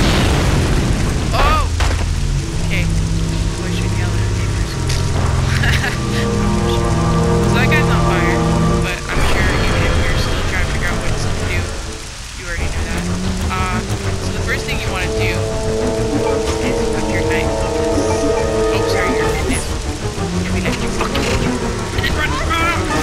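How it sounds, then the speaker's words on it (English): Steady rain from the video game Resident Evil Code Veronica, a loud continuous hiss with occasional low booms. Game music plays over it throughout, and it briefly dips and thins near the middle. "Oh, now it's raining."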